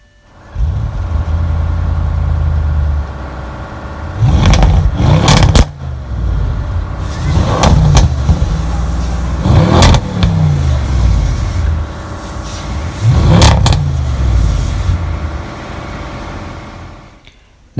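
A 2017 Audi RS7 engine cranks and catches, settles into a deep, steady idle, then gets blipped in several sharp revs spaced a few seconds apart, each swelling and dropping back to idle.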